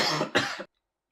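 Ben coughs twice in quick succession, close and harsh, the second burst trailing into a throaty rasp before abrupt silence.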